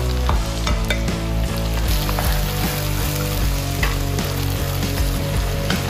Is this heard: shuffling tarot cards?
no